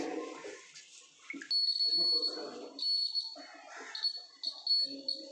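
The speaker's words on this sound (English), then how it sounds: "So with this complete circuit, the buzzer starts ringing." A shrill electronic buzzer in a school science-day circuit demonstration sounds in repeated bursts while a person talks nearby.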